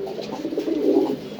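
Domestic flying pigeons cooing close by, a low, soft, rolling coo repeated continuously over a brief moment, with no talk.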